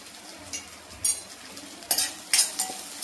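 Ridge gourd curry sizzling in a pan while a spoon stirs it, with soft steady frying and several sharp clinks and scrapes of utensil against metal.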